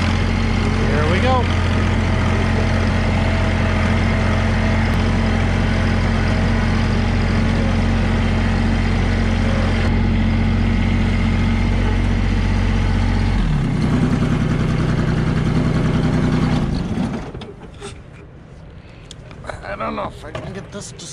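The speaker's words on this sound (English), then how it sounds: "I had to move the tractor first, so I guess we take the tractor instead" A heavy engine idles steadily with a deep, loud rumble for most of the clip, then shifts pitch and cuts off near the end.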